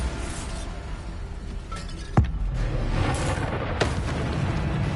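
Bombarda spell blasts in Hogwarts Legacy: two sharp booming cracks roughly a second and a half apart, set over a steady rumbling bed of game noise. No speech.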